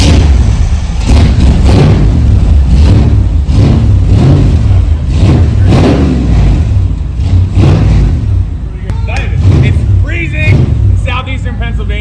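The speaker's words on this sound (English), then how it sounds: "see if we can peer pressure him into some burnouts" A car recovered from a junkyard revs hard on a cold day, a loud, rumbling engine surging up and down in repeated pulses close by, with people talking over it throughout.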